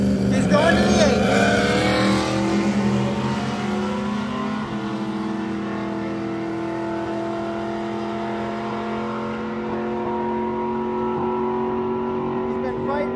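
A race car with a new turbo setup on a Cummins engine at Rocky Mountain Race Week drones loudly and steadily nearby, its engine note holding a rough, sustained pitch throughout.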